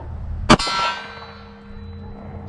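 A single Glock 22 Gen 4 pistol shot in .40 S&W strikes a small steel silhouette target outdoors, giving one sharp loud clang with a ringing metallic tail that fades over about a second.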